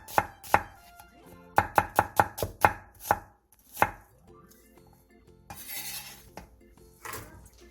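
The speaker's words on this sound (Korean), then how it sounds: "양파 2개를 2에서 3cm 정도 길이로 얇게 채 썰어주세요." Knife thinly slicing two onions on a cutting board, a quick run of crisp, evenly spaced chops up close, then quieter board and utensil knocks with a short rustle, no talking.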